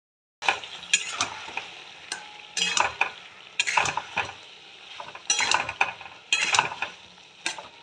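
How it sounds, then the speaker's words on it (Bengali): Spices and vegetables stirred as they fry in a pan: repeated bursts of a spatula scraping and clattering against the metal, close and fairly loud, over a continuous sizzle. "মশলাটা সবজির সাথে কষিয়ে নেব।"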